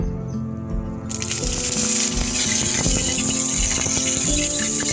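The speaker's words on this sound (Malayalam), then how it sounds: "ഇനി ഒരു പാൻ എടുത്ത് തേച്ച് എണ്ണ ഒഴിച്ച് കറിവേപ്പിലിടാം" Curry leaves dropped into hot oil in a pan for frying fish, a faint hush that bursts into a steady, crackling sizzle about a second in and keeps spitting and popping close up, with no voices.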